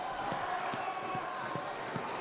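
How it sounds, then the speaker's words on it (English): Wrestling crowd at a Harry Smith versus Rhino match, a fairly faint, steady roar of cheering with a few dull thuds spaced through it. "This crowd is fired up"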